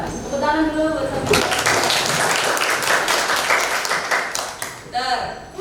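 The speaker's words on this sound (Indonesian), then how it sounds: "Tepuk tangan dulu buat saya." Applause breaks out in a classroom during an Indonesian lesson on anecdote texts: a dense burst of many hands clapping for a few seconds, with a teacher's voice talking just before and after it.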